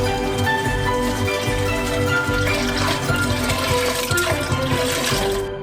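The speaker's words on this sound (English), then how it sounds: "Now we pour in 5 liters of milk." Five liters of milk stream continuously into a big pan that already holds agar-agar for a giant homemade Kinder chocolate, a loud, steady close-up liquid gush that cuts off abruptly at the end.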